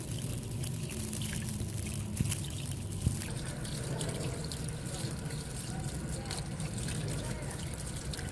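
Clean running water splashes steadily while fish are washed in it, a continuous close trickle and pour that lasts the whole time with small drips and knocks.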